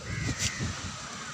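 A single bird call rings out briefly over steady wind noise at a seashore.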